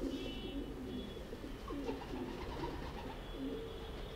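A racer pigeon coos close by in soft, repeated low rolling phrases over a quiet, steady background hum.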